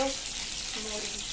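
Cumin seeds sizzling in hot oil alongside potatoes and spices, a short, steady hiss of frying close up with a brief low tonal sound near the start.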